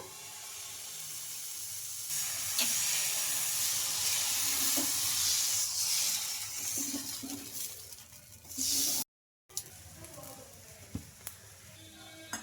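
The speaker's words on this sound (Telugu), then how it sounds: "ఈ దోశ కూడా రెండు వైపులా బాగా ఫ్రై చేసుకున్నాను" Steady sizzle of a corn flakes dosa frying in oil on a pan, with a few soft clinks and scrapes, close and moderately quiet, cut by a short gap near the end.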